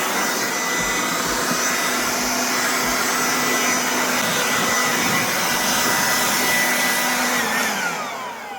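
A 20V Aoetree cordless jobsite blower runs steadily and loudly at close range, its airy whine and rushing air unbroken for several seconds before easing off slightly at the end.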